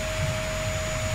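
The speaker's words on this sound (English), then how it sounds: "let's vacuum the house then" Steady broadband whir of a vacuum cleaner running in the video game A Good Husband, a continuous even drone at constant loudness with a faint electronic hum, no talk over it.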